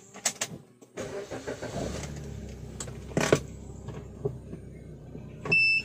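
A car is driven and eased over to the left edge of the road, its engine a quiet, steady hum with a few soft knocks and clicks from inside the cabin.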